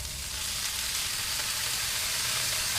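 Pork sizzling in a hot pan with lemongrass, a steady bright frying hiss that holds evenly throughout at moderate loudness, with no talk.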